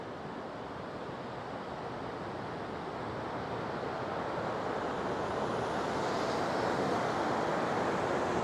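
River rushing through a valley below a precipice on a hiking trail at Joffre Lakes in BC, a steady broad roar of flowing water mixed with wind, growing slightly louder over time, no talking.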